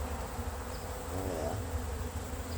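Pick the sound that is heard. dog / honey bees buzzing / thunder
honey bees buzzing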